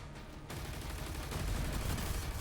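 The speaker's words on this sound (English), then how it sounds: "Yeah, it's a plasma cannon." A plasma cannon fires in the video game DOOM The Dark Ages, rapid punchy blasts that follow a quieter start and build into a dense, loud barrage with no voices.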